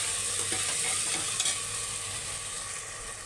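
Goat kidney and liver being stir-fried with ginger garlic paste in a pan: a steady, close, continuous sizzle with faint stirring scrapes, heard alone with no talk.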